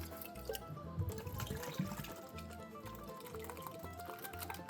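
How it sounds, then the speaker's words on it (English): Gold panning paydirt rinsed with a squirt bottle: close, steady splashing and trickling water over gravel, with small scraping knocks from the pan and no talking. "I'm gonna rinse it out"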